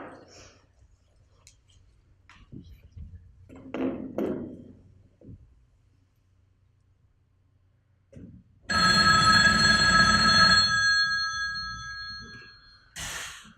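A telephone rings in a quiet room with one long, bright electronic ring, followed a couple of seconds later by the start of another, with faint soft knocks and movement beforehand.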